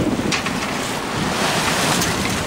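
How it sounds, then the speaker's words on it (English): Massive rolling ocean waves wash and roar around a small Mini racing sailboat in 10-15 knots of wind, with steady loud broadband rushing and microphone wind buffeting throughout. "Probably got about 10-15 knots, massive rolling waves."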